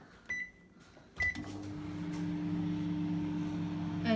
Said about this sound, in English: we've put it in the microwave